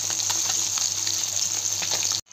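Food frying in hot oil in a blackened wok gives a loud, close, continuous sizzle that runs steadily and then cuts off abruptly at the end.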